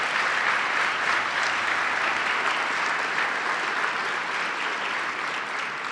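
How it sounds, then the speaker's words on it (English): Sustained applause from a large audience at a regional state-of-the-region event, steady and dense for the whole stretch with no pause, fairly loud and even throughout. "Let's give them a round of applause."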